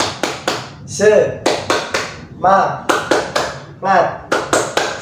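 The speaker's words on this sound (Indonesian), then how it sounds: "ayo kita tepuk semangat dulu ya, anak. Tepuk semangat." Children do a rhythmic 'tepuk semangat' group clap in a classroom, crisp clap bursts in a patterned beat mixed with chanted voices, loud and close.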